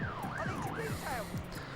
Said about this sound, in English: Just going to turn the siren off, otherwise that will get annoying